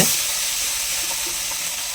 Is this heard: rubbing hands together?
no